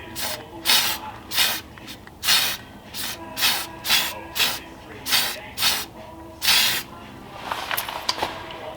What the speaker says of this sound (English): Here we have a super high output duplicolor undercoating system.